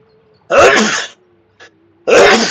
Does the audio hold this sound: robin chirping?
no